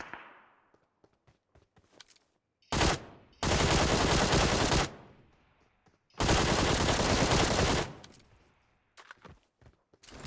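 Machine gun fire in the PUBG Mobile battle royale game: two long sustained loud automatic bursts plus a short burst before them, with scattered faint single shots and thumps in the quieter gaps.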